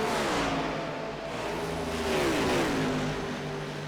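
Race car engines in iRacing at Michigan International Speedway, Formula cars passing Legend cars and a next gen car, roaring steadily with a rising and falling revving whine as cars sweep by.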